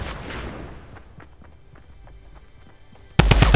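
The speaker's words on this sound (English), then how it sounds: "Whoa, they're shooting in." Gunfire in the Fortnite video game, with scattered shots ringing out amid a busy battle, then a sudden loud burst of rapid heavy firing close by at the end.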